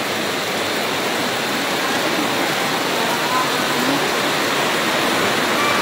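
Heavy rain with large drops and wind during a typhoon, a dense, steady roar of broadband noise that stays loud and unbroken from start to finish.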